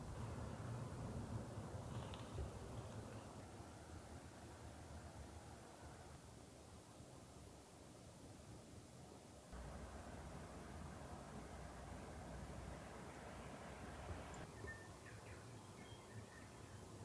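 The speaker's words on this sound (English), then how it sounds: "Windy morning." On a rainy camping morning, wind blows around a compact camper van as a faint, steady broadband rush that surges gently. It continues throughout with no voices, and a few faint bird calls rise above it.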